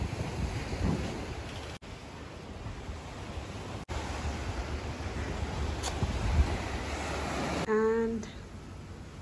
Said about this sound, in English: Sound of the ocean.